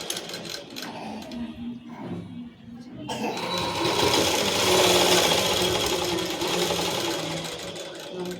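A domestic sewing machine stitches a boat neck top. A voice talks over soft handling at first, then the motor starts a loud, close, steady whirring run of stitches.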